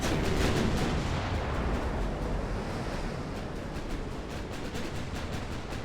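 Naval guns firing amid warship combat in Ultimate Admiral: Dreadnoughts, a French campaign battle at sea: dull booms blurred into a loud, continuous roar of surf and wind that tapers off slightly.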